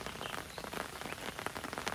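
Steady rain falling on a surface outdoors, a dense even hiss of drops with scattered louder taps, fairly faint and with no voices.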